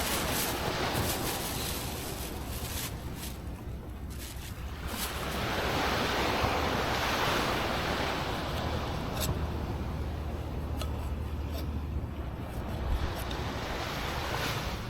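Ocean surf rolls continuously onto a beach at Saeng Chan, a broad, loud wash of breaking waves mixed with gusts of wind buffeting the microphone, with no voices.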